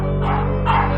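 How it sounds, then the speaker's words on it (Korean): A dog barks warily at visitors, two close, loud barks about half a second apart over a steady background hum. "집에 오는 외부인을 경계하고 짖어댔던"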